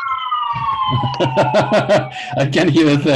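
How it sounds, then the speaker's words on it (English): An ambulance siren passes outside during an online lecture, its loud wailing tone sweeping slowly downward while a nearby voice talks over it. "There's an ambulance."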